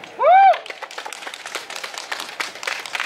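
A concert crowd at an outdoor youth busking show claps after a brief rising whistle or cheer, with scattered hand claps continuing fairly close and lively for a few seconds.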